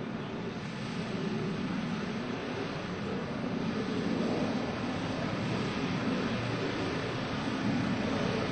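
US Navy Blue Angels jets flying a left echelon roll at the 2002 NAS Oceana Airshow, a continuous broad roar of jet engines holding steady throughout at a moderate distance.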